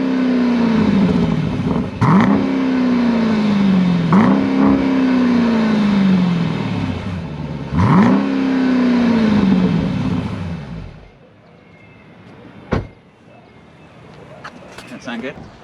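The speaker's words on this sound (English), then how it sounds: "Let's do some sound on the exhaust." A 2021 Dodge Durango SRT 392's deep V8 exhaust revs hard three times, each blip rising and falling loudly up close, then settles to a quiet idle with a few faint clicks.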